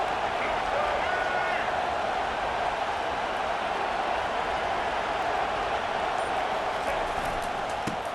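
A stadium crowd in EA Sports College Football 25 sends up a dense, unbroken roar that holds at the same loud level throughout, with a voice running beneath it.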